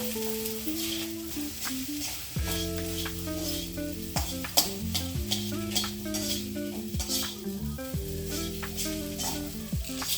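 Steady sizzling of fried rice in a hot pan with scraping stirs and occasional clinks of a utensil, close and continuous throughout.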